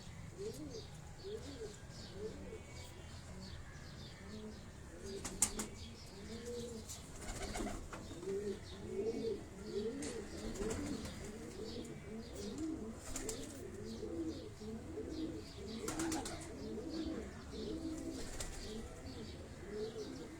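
Pigeons on a Karachi rooftop coo in repeated soft rolling calls, with several brief sharp bursts that may be wing flaps and quiet background noise throughout.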